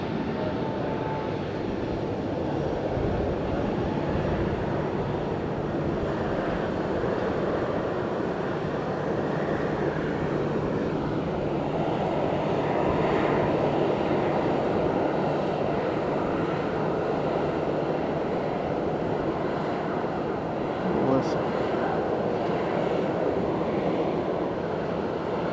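An Air Busan airliner takes off at Fukuoka airport, its engines a broad, continuous roar holding steady and swelling slightly over a long stretch, with no voices.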